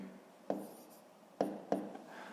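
Pen or pencil writing down a fifth-grade math calculation on paper, a few short scratchy strokes with sharp onsets spaced irregularly, close and fairly quiet, with no voices.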